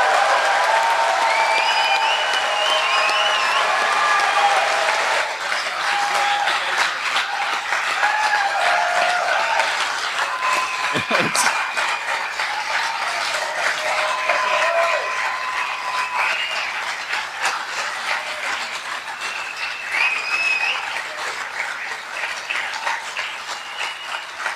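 An audience applauds at a festival closing ceremony, sustained dense clapping from a large crowd that carries on steadily and tapers slightly toward the end, with a brief mechanical rattle partway through.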